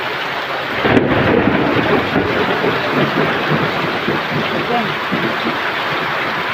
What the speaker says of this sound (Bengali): প্রায় 12:30 বাজে বৃষ্টি হচ্ছে, কি বৃষ্টি হচ্ছে!